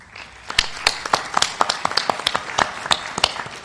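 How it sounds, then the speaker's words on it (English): A short burst of scattered applause from a conference audience for a committee at a bridge board of governors meeting, with irregular distinct claps from a modest number of people rising quickly and continuing unevenly. "So I think the committee deserves a round of applause."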